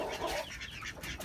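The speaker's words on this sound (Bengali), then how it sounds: "আর এই পাশে তো মুরগি, আর এই মুরগিদের সাথে একটা দেশি মুরগি দেওয়া হয়েছে বড়।" Several chickens cluck close by, a large native hen among them, in a short burst of overlapping calls with no speech.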